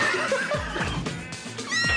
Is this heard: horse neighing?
yes